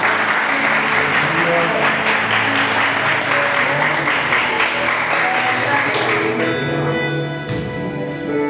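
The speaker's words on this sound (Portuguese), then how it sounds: "Que as palmas do Senhor Jesus." Steady crowd applause at a church service fills the whole stretch, dense and continuous, with music and voices mixed underneath, easing slightly near the end.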